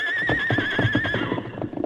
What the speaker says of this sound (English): Him plenty strong. Plenty good horse.